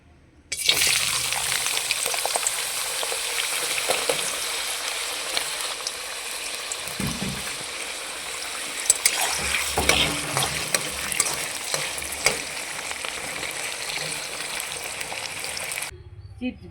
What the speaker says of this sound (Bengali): চিপস ভেজে নেব।